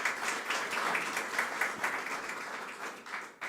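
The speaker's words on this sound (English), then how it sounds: "I think you all deserve a round of applause" Audience at a BCom graduation ceremony applauding, a dense, steady patter of many hands clapping at moderate distance that thins slightly toward the end.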